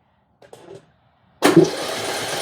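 An old tractor engine with little compression cranks over on a weak, partly charged battery. After a short faint knock, a loud, steady starter grind churns close by without catching, and no one speaks.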